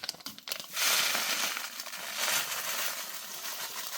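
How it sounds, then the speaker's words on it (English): Coarsely ground coffee is tipped and shaken into a Ziploc bag, giving a few sharp clicks followed by a sustained crinkling, rustling pour, close and moderately quiet. "Let's put it in a Ziploc."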